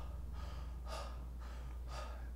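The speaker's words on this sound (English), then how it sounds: "where I'm just over-breathing" Four rhythmic, forceful breaths spaced about half a second apart, a person deliberately over-breathing in a quick sharp pattern, close and fairly loud over a steady low hum, with no talk.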